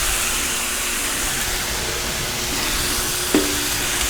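Cheese steaks sizzle on a Dyna-Living 22-inch commercial electric flat top griddle, giving a steady close hiss of frying with a faint hum and a brief scrape near the end.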